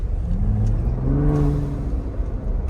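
A Ford Bronco Raptor with a turbo mod for a louder sound revs up close, its engine note climbing in pitch and then easing back over a few seconds, with turbo whir riding on top.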